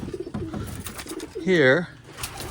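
White homing pigeons coo once in a short, clear rising-and-falling call near the loft, over soft outdoor background and a brief spoken word.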